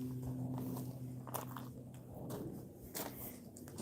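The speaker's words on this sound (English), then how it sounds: "we can actually eat this celery like a celery stick" Crisp crunching bites and chewing of a fresh garden celery stalk, eaten raw, close up and quiet, with a few sharper snaps among the softer munching.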